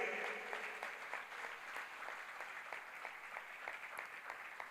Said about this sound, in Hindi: एक बार उनके लिए जोरदार ताली नाद अपन करेंगे।